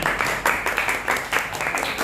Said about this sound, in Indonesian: Tepuk tangan teman kalian.